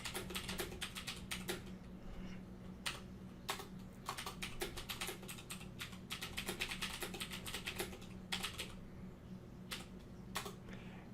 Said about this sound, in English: And now you can start typing.